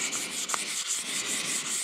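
Power sander grinding over the surface of a pot during a multi-day restoration at fine 800 grit, a steady close abrasive hiss with slight rhythmic pulsing and no talk.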